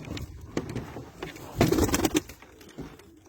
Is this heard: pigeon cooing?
yes